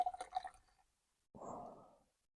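Coffee with a drop of milk poured into a cup at a camp spot, a short soft pour of liquid after a few faint drips and clinks, close and quiet.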